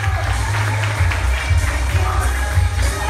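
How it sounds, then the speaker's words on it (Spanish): Applause fills a quinceañera hall, steady and dense from start to finish, with a low background hum running beneath the clapping crowd. "Fuerte el aplauso para que se escuche."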